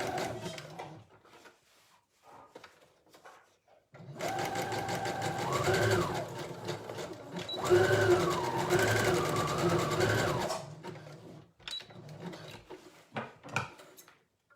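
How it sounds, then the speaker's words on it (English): A close sewing machine runs steadily for several seconds, stitching forward and back on a cotton elasticated skirt, with its motor pitch shifting as it reverses, framed by quieter handling noises. "I'm just going to do a few stitches forward and a few stitches back to go a bit crazy on it so it's nice and"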